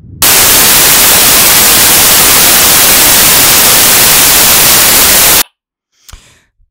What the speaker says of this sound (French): Et maintenant, je vous fais écouter c'est quoi un bruit blanc.